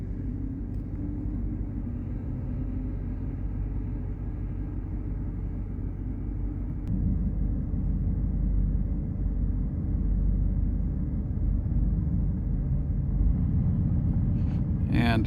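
A 2004 Mercedes E500 4matic engine runs with a steady, close, low rumble that holds constant throughout, with a slight shift in tone partway through.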